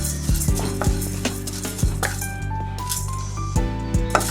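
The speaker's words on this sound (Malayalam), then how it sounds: "സാമ്പാർ പരിപ്പ് എല്ലാം ചെറുതായിട്ട് വറുത്ത് വന്നാൽ മതി, കരിയാൻ പാടില്ല" A spoon scrapes and clinks against a metal pan as dry lentils are roasted for sambar powder, with rattly scraping strokes over a steady low hum.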